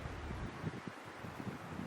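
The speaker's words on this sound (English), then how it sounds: "it's slightly windy, but nothing crazy" Steady wind buffeting the microphone at a wilderness lake, a low rumbling roar with gusty swells throughout, no voices.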